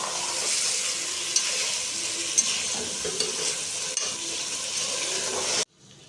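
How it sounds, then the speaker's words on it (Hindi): Cauliflower stir-frying in a pan with spices, a dense close sizzle under repeated scrapes and taps of a spoon, cutting off abruptly near the end. "अब मैं इसी तरह मज़ीद 3 से 4 मिनट के लिए गोभी की भुनाई भी कर लूँगी।"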